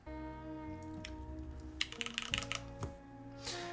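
Keys clatter on a mechanical keyboard fitted with milky yellow switches, a Harbour 60 build, in a short, faint burst of typing heard over background music.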